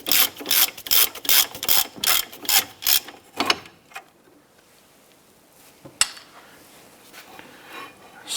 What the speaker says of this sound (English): So hold that caliper and bracket while you remove that bolt.